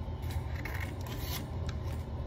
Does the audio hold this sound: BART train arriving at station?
no